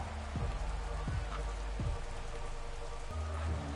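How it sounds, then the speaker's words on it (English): A steady wash of rain falls during a Madden 21 football game, a constant hiss with a few low thumps and sweeping tones from game effects under it, and no talking. "The rain set to continue as we are underway in the second half."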